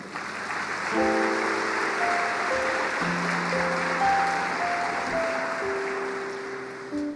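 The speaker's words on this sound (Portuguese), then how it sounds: "Você pode dar um aplauso a Ele?" Congregation applauding during a church celebration service, a broad steady clapping wash over sustained organ or keyboard chords that shift beneath it throughout.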